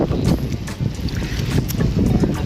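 A boat rocks on the water near El Nido, Palawan, with sloshing, splashing water and a gusty wind rumble, close and loud, without talking.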